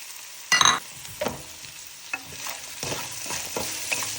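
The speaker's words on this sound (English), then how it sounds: "And saute it until everything is almost brown, slightly brown, not completely brown." Onion added to half-cooked ginger and garlic sautéing in a pan for chicken curry, with a sharp clatter as it goes in, then steady sizzling and scattered stirring scrapes, close and moderately loud.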